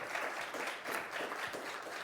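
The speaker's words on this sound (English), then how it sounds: "So another round of applause for Daniela." Steady applause from a small group, continuous clapping without pauses, moderately loud and close, with no talking over it.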